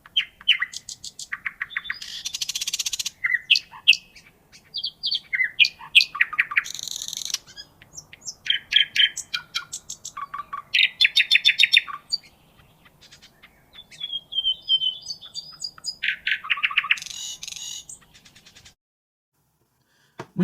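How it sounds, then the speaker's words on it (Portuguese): Songbirds sing a melody of bright, rapid chirps and trilled phrases in bursts separated by short pauses, clear and fairly close, with no other sounds around them. "os pássaros precisam aprender a cantar"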